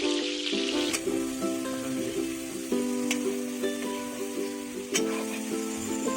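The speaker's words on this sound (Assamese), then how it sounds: "মাংসখিনি ভালদৰে লৰাই লৈ ইয়াতে দি দিছোঁ কাটি ৰখা আলু আৰু বিলাহীখিনি" Chicken pieces with chopped potatoes and tomatoes sizzle and crackle steadily in a pan while being stirred, with occasional sharp scrapes of the spoon against the metal; close and moderately loud, no talking.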